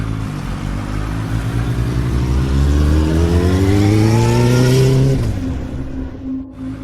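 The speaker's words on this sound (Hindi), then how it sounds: "नील बाइक से अपने घर जाने के लिए निकला।" A motorbike ridden at night revs up close, its engine pitch climbing steadily for several seconds before dropping off and fading.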